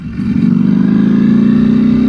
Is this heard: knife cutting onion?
no